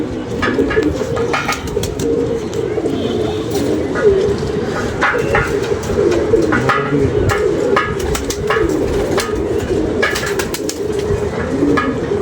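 A pigeon coos repeatedly close by, soft rolling calls over a steady background with occasional clicks and knocks, and voices talking at times.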